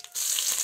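Curry leaves hitting hot oil with mustard seeds already in the pan, bursting into a loud, steady hiss after a brief quieter start, close and continuous with no voices.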